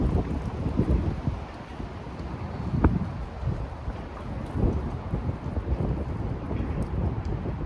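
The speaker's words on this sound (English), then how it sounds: "you hear that wind?" Wind blowing outdoors during a bodyweight workout at the bars, a loud continuous rumbling buffet that gusts across the microphone with no one talking.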